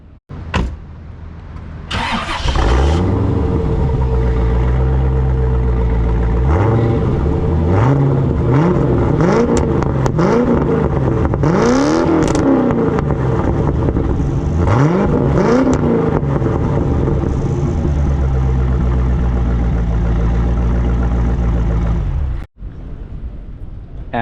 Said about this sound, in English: we'll go ahead and play an exhaust clip for you now.